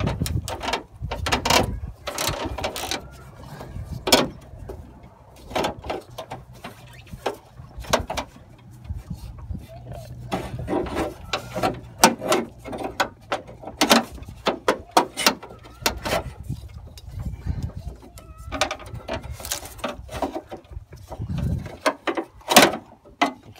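Wrench work unbolting an 11mm bolt on the window regulator track inside the door of a 1994-2004 Ford Mustang: repeated sharp metallic clicks and ratcheting clatters, close and irregular, with handling knocks and no talking.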